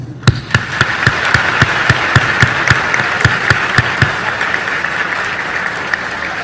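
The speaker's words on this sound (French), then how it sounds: "À vous donc ce concert d'applaudissements" A large audience at a graduation ceremony breaks into loud, dense applause that is close and continuous, with a rhythmic, regular clap or beat cutting through the crowd noise at steady intervals.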